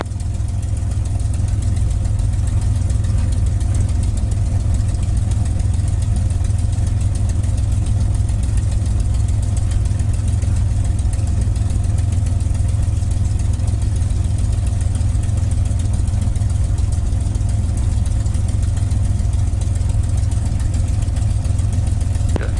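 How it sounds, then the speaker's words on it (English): A warmed-up P-51 Mustang aircraft engine idles during a run-up, producing a loud, steady, low throbbing drone that holds unbroken for over twenty seconds. "we've got a warm engine, so it's not going to take long to do a run up here."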